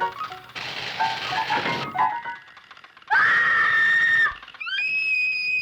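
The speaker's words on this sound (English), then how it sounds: "That's such a chilling scream" A chilling scream from a horror film scene, a sustained high shriek rising sharply and holding loudly for about a second, preceded by clattering noisy sound and followed by a thinner whistling wail.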